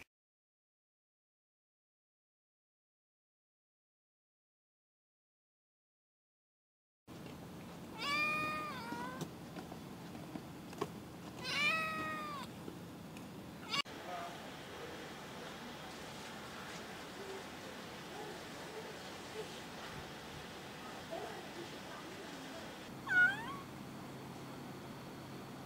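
A rescued kitten meows in short, repeated high cries after a stretch of silence, several calls spaced apart close to the listener over faint background hiss.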